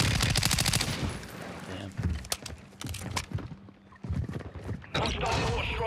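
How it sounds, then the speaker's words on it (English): Rapid video-game gunfire with bursts of automatic shots and single cracks, loud and close, while someone speaks briefly over the shooting. "Oh shit, I'm getting shot at."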